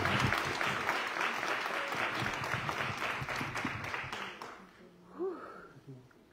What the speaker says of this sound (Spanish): un gran aplauso, por favor, para esta brillante mujer, Danu Gontijo.